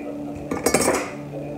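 Dishes and pots clatter and clink together in a brief burst of washing, loud and close for a moment before fading back to a quiet hum.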